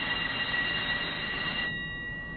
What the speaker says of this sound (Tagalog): Alam mo ba, ang tren na to, nireserba para sa atin.